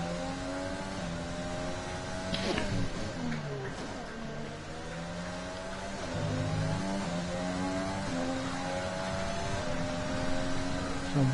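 Racing-game car engines whine and shift steadily at close range, rising and falling in pitch as gears change, while the cars hold a continuous drone through the lap of a Friday night Singapore race.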